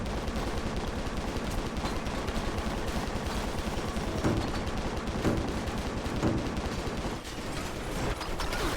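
Rapid video-game gunfire barrage from the shooter Stranglehold, dense and continuous with rattling bursts and heavier thuds throughout, loud and close with no talk over it.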